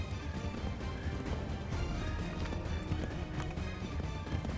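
Horse hooves galloping in a video game, a steady rapid clip-clop of running hooves that continues throughout at moderate volume.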